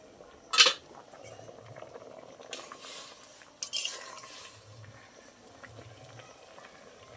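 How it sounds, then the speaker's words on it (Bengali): A utensil stirring ghetkol (taro stem) curry in a pot, with a sharp metallic clink at the start, then soft scraping and swishing strokes in short bursts over a low simmer. "আবারও নেড়ে দেবো একটু ভালো করে"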